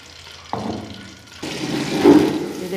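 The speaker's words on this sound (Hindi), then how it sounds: "मैंने देगची में घी डाल दिया है जो कि अभी गर्म हो रहा है। अब हम इसमें डालेंगे प्याज।" Sliced onions dropped into hot ghee in a cooking pot: a quiet lead-in, a small knock, then a sudden loud, sustained sizzle that swells and holds.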